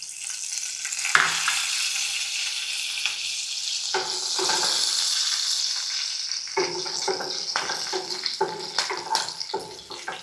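Steady hiss of curry leaves sizzling in hot oil, with sharper crackling bursts popping through in the second half.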